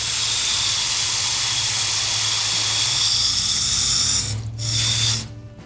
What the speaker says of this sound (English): fill my bowl with water